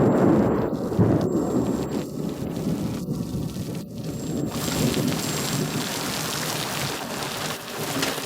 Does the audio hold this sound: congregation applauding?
no